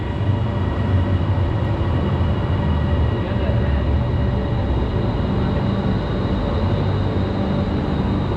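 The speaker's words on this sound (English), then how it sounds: "The train has just arrived and we are ready to board." An airport rail link train arrives at Phaya Thai station in Bangkok, a continuous broadband rumble and hiss of wheels and motors holding steady throughout, moderately loud in an enclosed platform setting.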